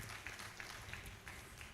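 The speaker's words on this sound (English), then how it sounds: "Another round of applause for Chief Oluyedun." Audience clapping at a university pharmacy faculty induction ceremony, a steady, moderately distant wash of many hands applauding throughout.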